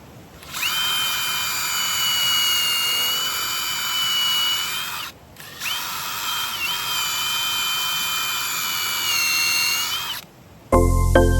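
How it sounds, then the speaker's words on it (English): A power drill whines loudly in two long bursts of about five seconds each, separated by a brief pause, with a steady high-pitched motor tone, drilling screw holes. "I just got my drill and a little drill bit so I can make the holes for the screws"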